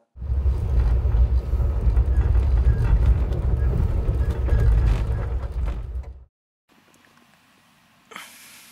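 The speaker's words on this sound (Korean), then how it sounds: "잠시 후 열차가 출발했다" A loud, rumbling mechanical roar builds and holds for several seconds as a Canadian cross-country passenger train pulls away, then cuts to near silence and a brief hiss.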